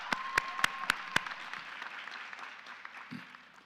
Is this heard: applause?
yes